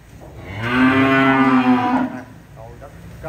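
A cow from a small group of cattle offered for sale at a farmyard lets out a long, loud, close moo lasting over a second, followed by softer rustling and faint lowing.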